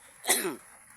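A single short, close cough from a person who is sick, fairly faint against quiet room tone.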